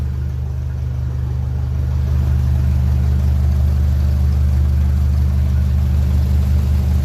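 A 1957 Ferguson 35 TVO tractor engine, running rough, chugs loudly and continuously nearby, its low throb steady with a slight rise in intensity partway through.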